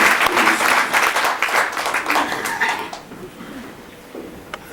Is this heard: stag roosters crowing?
no